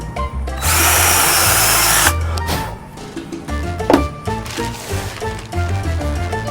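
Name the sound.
power drill while installing cumaru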